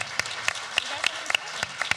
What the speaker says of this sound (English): Let's welcome Brant with a clap. Round of applause.